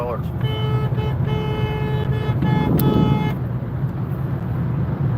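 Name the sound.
car horn honking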